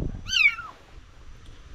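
A single abandoned kitten gives one short, high meow nearby, followed by quiet.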